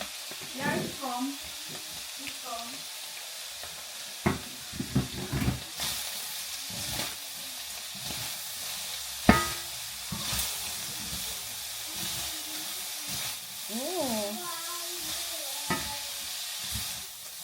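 Cabbage and mung bean sprouts stir-fried in a pan, a soft continuous sizzle with scattered clanks and scraping of the utensil, heard beneath a woman's speech.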